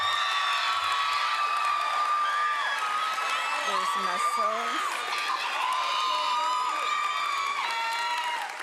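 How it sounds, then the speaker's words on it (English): An audience at a school awards ceremony claps, cheers and whoops loudly and continuously, with a voice calling out over the crowd noise. "Please applause."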